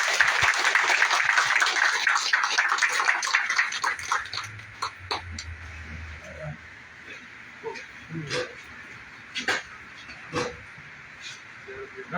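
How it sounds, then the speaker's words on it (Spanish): Audience applause at a Casa Cuba de Tampa celebration of the 120th anniversary of the Cuban Republic's proclamation: dense clapping for about four seconds, then thinning into scattered, isolated claps that trail off. "Un aplauso, por favor."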